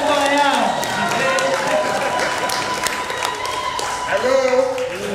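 An audience at a workshop on online gospel preaching claps together, a dense, steady patter of many hands throughout, with a voice speaking over the applause.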